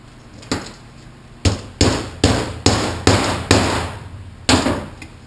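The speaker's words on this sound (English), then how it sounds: "So I'll take my socket and we'll tap it" A 4L80E transmission part being tapped out with a socket during an overhaul: about eight sharp metallic knocks, close and loud, spaced irregularly with a brief pause in the middle.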